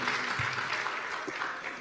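Steady applause from an audience in a prison hall as a man is invited onto the stage, a dense, continuous patter of clapping.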